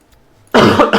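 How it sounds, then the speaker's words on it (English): A single sharp, close cough from someone ill with COVID, bursting out after a near-silent pause, with a brief second push at the end. "This COVID cough is really getting me this time around."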